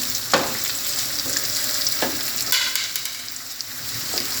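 Rice sautéing in a pan with spring onions, a steady close sizzle and fry with a few scraping stirs of a utensil and no talking.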